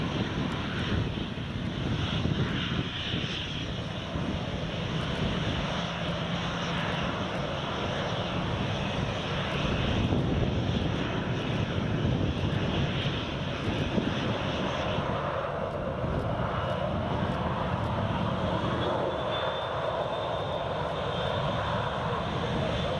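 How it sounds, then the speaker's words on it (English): A Jet2 airliner departs Newcastle Airport in a crosswind, its engines a loud, broad, steady roar that holds for the whole stretch and shifts slightly in tone as it accelerates, with no talk over it. "Alright, Jet2 is about to depart."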